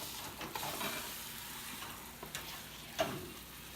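Food fries in a pan just after being flipped, giving a steady close sizzle with a few small clicks and knocks from the pan.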